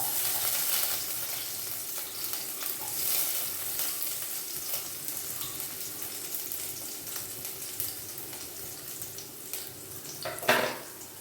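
Mustard seeds and onion fry in hot oil with a steady, dense sizzle and scattered pops, followed by a short clatter of stirring near the end.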